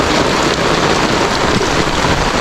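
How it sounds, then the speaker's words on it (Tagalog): Heavy rain pours down in a forest, a loud, dense, unbroken hiss of drops with no letup and no voices. "naabutan po kami ng ulan"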